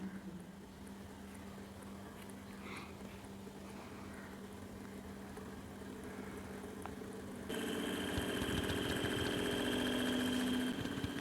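Small motor of a homemade portable fan whirs steadily in a quiet room, a faint, even hum that grows a bit louder and brighter partway through.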